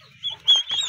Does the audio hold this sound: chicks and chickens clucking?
yes